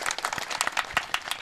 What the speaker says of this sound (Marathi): सर्वांनी त्यांच्यासाठी एकदा जोरदार टाळ्या